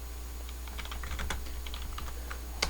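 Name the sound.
computer keyboard typing a terminal command in Kali Linux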